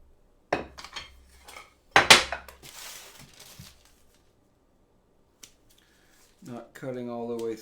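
Scissors snipping rolled Danish coffee cake dough on a sheet pan: a few sharp, close cuts and crisp snaps separated by quiet gaps, with a voice speaking briefly at the end.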